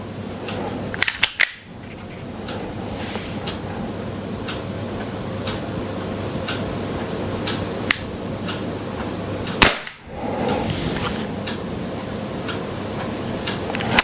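A Walther CP99 Umarex air pistol fired without a silencer about half a meter from a sound meter, two sharp loud cracks several seconds apart with faint ticking in between.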